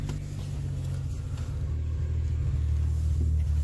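A 1989 Chevrolet Sprint engine idles unevenly up close, a steady low rumble with a slight wavering that swells a little louder toward the end, with no talk over it.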